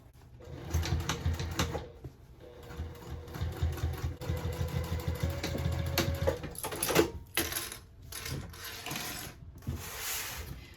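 Sewing machine top stitching a tote bag, running in steady bursts with a mechanical whir and rapid needle ticking, stopping and restarting several times, close and moderately loud.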